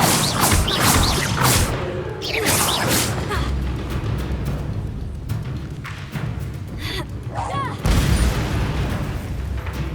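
An Incendio fire spell cast in the Hogwarts Legacy video game bursts out as loud, roaring whooshes and crashing booms, with a crackling rush sustained throughout and a fresh blast near the end.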